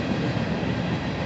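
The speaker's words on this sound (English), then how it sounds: "So it's not a very big train." A Union Pacific freight train rumbles steadily past, a dense continuous roar of rolling wagons with no voices.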